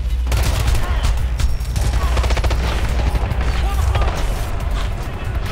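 Dense gunfire in the video game Ghost Recon Future Soldier: rapid bursts of automatic shots and booms crowd together continuously, loud and close throughout.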